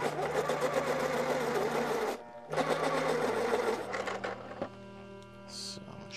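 A pencil being sharpened, heard as two long, steady mechanical whirring bursts separated by a short pause, then a quieter stretch with lighter grinding.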